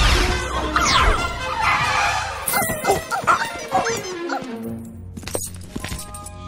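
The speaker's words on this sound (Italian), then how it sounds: "Ho portato il mio feroce cane con scudo galattico!" A dog barks and yips loudly amid crashes and jangling clatter during an animated Western-style battle scene from Toy Story 3, the barks overlapping with busy effects and a brief voice.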